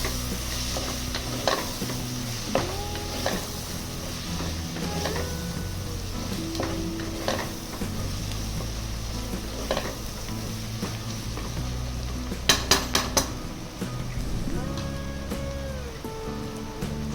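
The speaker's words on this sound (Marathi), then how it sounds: "आता हे सगळे जिन्नस छान एकत्र 5 ते 10 मिनिट मीडियम गॅसवर परतून घ्यायचे" Spices and chopped coriander sautéed on medium gas for a soybean pulao, with a steady crackling sizzle and frequent scraping strokes of a stirring spoon, plus a brief burst of clinks near the end, with no talk.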